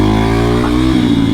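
A Sherpa trail motorcycle engine, close and loud, revs hard in a steady rising drone before its pitch shifts as it accelerates to lift into a wheelie.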